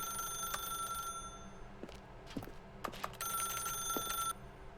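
An in-game telephone in The Stanley Parable: Ultra Deluxe rings in two bursts of steady electronic bell tones, fairly loud and clear, with a few clicks in the pause between, no talking.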